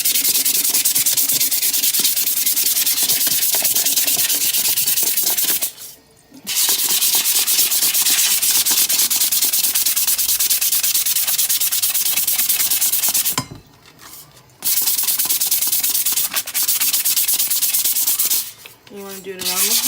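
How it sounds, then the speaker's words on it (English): Wet sandpaper rubs over a tumbler cup in long continuous scrubbing passes, loud and close, broken by a few short pauses with no talking. "I get my cup wet and I get my sandpaper wet, and then I kind of just sand the cup"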